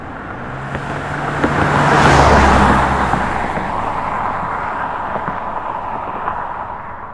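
A car approaches, swells to its loudest in a smooth whoosh of tyre and engine noise about two seconds in, then recedes into steady road noise, recorded outdoors from the roadside.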